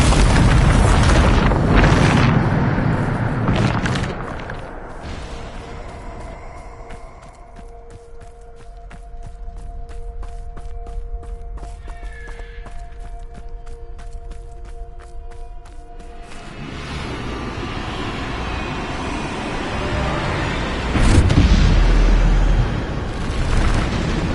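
Bombarda spell explosions in Hogwarts Legacy, heavy booming blasts at the start and again near the end with debris bursts, separated by a quieter stretch of ambient tones, rapid ticking and footsteps.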